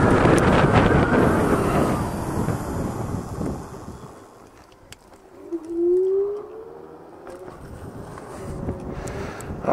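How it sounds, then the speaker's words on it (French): Strong wind buffets the microphone in loud gusts while riding a Bezior S1 electric scooter at full throttle, easing off midway before picking up again, with a faint whine in the background. "enfin là j'entends plus le vent que les oiseaux."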